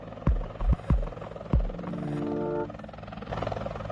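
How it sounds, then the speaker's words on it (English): A helicopter sets down beside a flooding river: several heavy, close thumps are followed by a droning engine whine that holds and then fades into rumbling. "we heard the helicopter landing right there"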